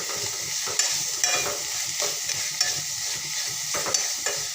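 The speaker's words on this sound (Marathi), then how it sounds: "असं भाजीला अधूनमधून छान मस्त असं परतत राहायचं" Amaranth greens frying in a pan and stirred now and then, a continuous sizzle broken by regular scraping spoon strokes, close and fairly loud with no talking.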